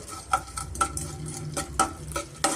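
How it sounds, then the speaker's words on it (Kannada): Edible gum (gond) frying and bubbling in hot ghee in a pan, heard as a soft crackle punctuated by several sharp clinks and scrapes of a spoon stirring at irregular intervals, close up and without talk. "ಈ ಥರ ತುಪ್ಪದಲ್ಲಿ ನಾವು ಫ್ರೈ ಮಾಡ್ಕೊಂಡಷ್ಟು ನೋಡಿ ಈ ಥರ ಬಬಲ್ಸ್ ಥರ ಬರುತ್ತೆ"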